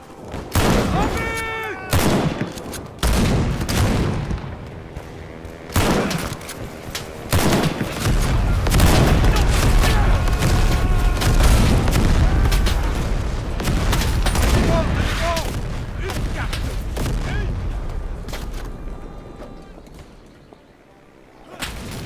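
Battlefield din from the WW1 game Over the Top: rapid rifle shots and booming blasts crowd together, building into a sustained roar of fire and explosions with shouted voices in places.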